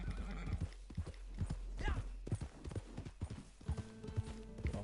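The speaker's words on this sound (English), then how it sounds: "Now I get to ride my horse" Rhythmic clip-clop of horse hooves trotting nearby in Red Dead Redemption 2 Online, with a horse whinnying partway through and faint background music.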